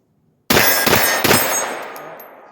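A single sharp, loud gunshot from a pistol fitted with a Trojan condom stock, followed by two quick echoing cracks and a long reverberant decay outdoors at a shooting range.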